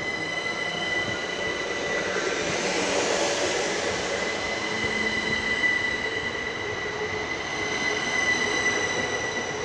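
Two coupled Class 375 electric units pull away from platform 2 at Dover Priory station, a steady loud hum of traction motors with squealing wheels and rising pitch that swells midway and carries on continuously with no voices.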